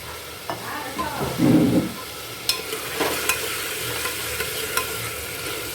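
Potato and onion sautéing in a pan, with a soft continuous sizzle, a brief thump of movement and several sharp clicks from stirring, close by with no speech.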